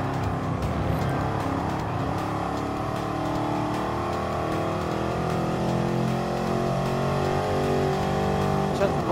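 A De Tomaso Pantera, an Italian classic sports car, races in Gran Turismo Sport, its engine droning steadily with shifting revs and other cars' engines blending in a continuous loud mix throughout.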